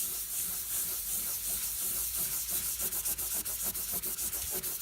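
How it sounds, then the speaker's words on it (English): A rag rubs crayon off a painted wall in steady back-and-forth scrubbing, a close, continuous swishing that turns into distinct rhythmic strokes toward the end, with no voices. "keep rotating your rag. And a little bit of elbow grease in there."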